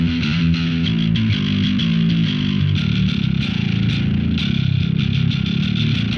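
Distorted metal bass guitar routed through a speaker simulation, a loud, dense, saturated tone with steady low notes and bright gritty edges, played continuously without pause.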